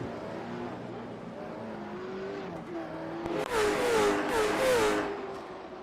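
Race cars roar around Thompson International Speedway during an oval race, a steady engine drone that swells as cars rush close by, with rising revs and a brief tire squeal near the end.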